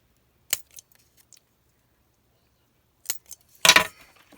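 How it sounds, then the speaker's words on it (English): Scissors snip the corners of a paper tag in a few short, crisp clicks, close and isolated, with silence between them and a louder cluster of cuts near the end. "get our corners snipped out"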